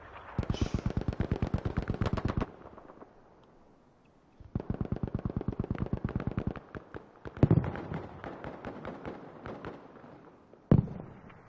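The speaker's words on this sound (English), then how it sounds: "grenades and dynamite galore going out here, man" Grenades and dynamite detonate in a competitive team shooter match, producing dense rapid bursts of gunfire-like blasts in clustered volleys, with loud isolated booms near the end and brief lulls between the barrages.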